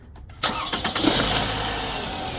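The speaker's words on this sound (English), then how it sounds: "Now we're gonna start up the engine." A Toyota Camry engine, 2011-2016 model, cranks briefly and catches after a spark plug replacement, then settles into a steady, close idle.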